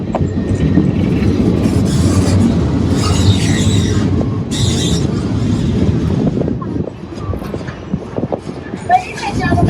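A Leadville Railroad tourist train in Colorado rumbles steadily along the rails, close and loud, with clacking wheels, some squealing and rattling of the cars, and voices speaking over it.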